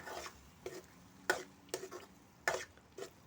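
Spoon stirring chopped medium tomatoes into a ginger-garlic masala in a pan for Punjabi-style chicken curry, a few distinct scraping strokes over a soft sizzle, close and fairly quiet with no talking.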